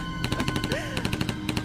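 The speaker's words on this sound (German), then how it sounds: "Mann, warum schießen bloß alle auf uns?" Rapid sci-fi gunfire effects in a radio drama, a fast rhythmic burst of repeated shots running steadily through the whole stretch, loud and close, with a brief tonal whine in the middle.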